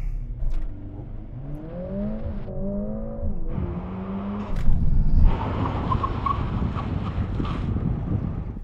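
Mercedes-AMG A45 S in a braking test from 50 mph, its engine rising through revs in steps as it accelerates. Tyre and wind roar swell, then a rough rumble follows as the car slows, heard outdoors under steady wind noise.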